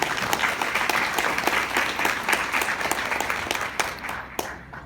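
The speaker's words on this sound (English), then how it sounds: "a round of applause for our scholarship awardees" An audience claps for scholarship awardees at a Sojourner Truth celebration; moderate, steady applause with distinct individual claps that thins out and fades toward the end.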